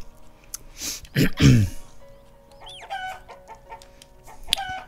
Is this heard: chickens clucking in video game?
yes